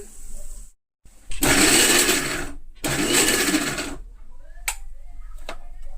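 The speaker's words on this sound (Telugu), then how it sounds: "చక్కగా మనం మిక్సీ పట్టేసుకుందాం" A kitchen mixer grinder runs in two loud whirring bursts, separated by a short pause, as it crushes gongura leaves with salt and chilli powder into chutney. The motor stops between bursts, and a few light clicks follow at the end.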